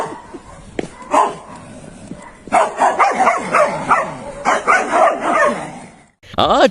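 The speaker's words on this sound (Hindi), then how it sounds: "इन दोनों का एक दूसरे पर भौंकना शुरू हो जाता है" Two dogs bark and snarl at each other across a house gate, a dense run of loud, overlapping barks and yips that builds after a brief lull and cuts off abruptly near the end.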